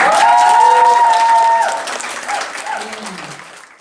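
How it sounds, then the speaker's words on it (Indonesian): A church gathering of parish lectors applauds loudly, the clapping fading toward the end, with a cheering or singing voice over the start. "kita berikan tepuk tangan"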